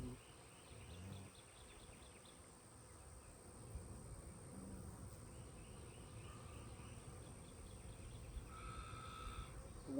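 Honey bees in an open hive during a Demaree split on a farm, fairly calm in cool weather: a faint, steady low buzzing hum of many bees close by, with occasional faint chirps in the background.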